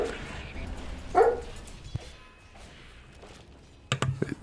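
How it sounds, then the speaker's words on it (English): A dog barks once in a short yelp, then adds a few more brief barks later, fairly near and under background voices. "Yes, my dog agrees as well."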